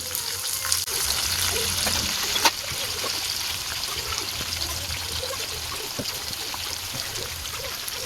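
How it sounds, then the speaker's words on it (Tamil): Chicken pieces for a chicken roast fry in a pan over a medium flame, giving a steady, close sizzle with a wet, trickling crackle throughout. A couple of brief clinks sound early on. "ஸ்டவ்வை மீடியம் ஃப்ளேமில் வச்சு இதை நல்லா பொறிச்சு எடுத்துக்கலாம்"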